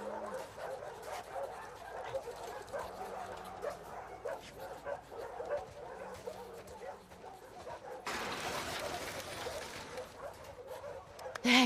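A dog in the video game The Last of Us Part II barks and yips in short bursts, fairly close, amid game ambience and a burst of broadband noise.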